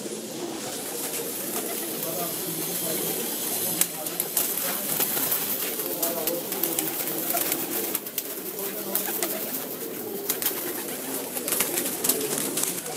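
Rare, prized pigeons kept in cages, cooing and fluttering continuously nearby, a dense layer of soft bird calls under someone talking.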